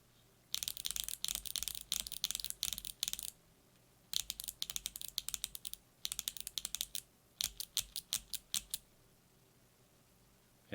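Rapid bursts of crisp, clicky typing on a mechanical keyboard fitted with Flurple Box Jade switches, close and clear, in several runs separated by short pauses.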